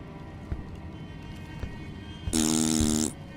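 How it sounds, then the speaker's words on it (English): A video game fart sound effect: a single buzzy, tonal blurt lasting under a second, rising loud above quiet background ambience with a few faint footstep-like thumps before it. "I just love that fart sound effect."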